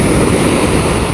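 Big ocean waves at sea around a small fishing boat, heard as a loud, continuous wash of surf and rushing water heavily blended with wind buffeting the microphone.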